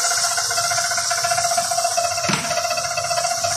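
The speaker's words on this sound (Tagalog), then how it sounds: "Mag-blender po ako ng tomato guys." A blender whirs steadily as it purées tomatoes for Arabic salona stew, one continuous close, loud motor drone with a brief surge partway through.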